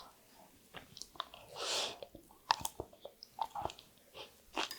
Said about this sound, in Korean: 이번에는 살짝 찐 거를 밥 위에다 올려서 한번 먹어보도록 하겠습니다.